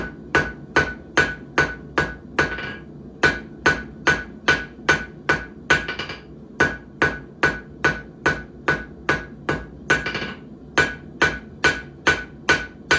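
A blacksmith's hammer strikes hot metal at the forge in a fast, steady rhythm, dozens of sharp ringing blows in regular groups with brief pauses between runs, loud and close with no talk.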